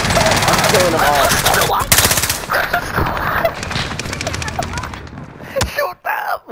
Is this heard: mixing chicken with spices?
no